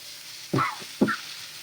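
Eggplant strips hit hot oil in a wok already seasoned with garlic, dry chilli and panch phoron, giving two short bursts of sizzling and frying close up, with no voices.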